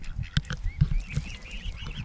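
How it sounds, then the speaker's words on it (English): Ducks and swans, including young cygnets, squabble while being fed at Barden Lake, with close splashy pecking thumps and soft quacks giving way to a stretch of thin squeaky calls. "Joe here is feeding the ducks and the swans"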